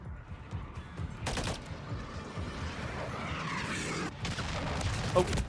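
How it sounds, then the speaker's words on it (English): A cruise missile strike in the game Modern Warfare III arrives as a dense, rumbling barrage of blasts and gunfire under continuous battle noise, with a sharp burst near the end. "Hostile cruise missile incoming."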